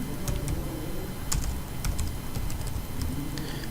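A name is typed on a computer keyboard during a Matlab interface tutorial, with steady, close, crisp key clicks in irregular bursts over a hissy background and no talking.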